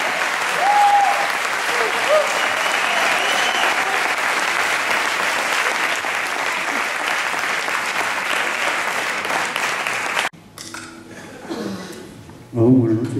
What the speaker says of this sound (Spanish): recibir el aplauso del público y saber lo que es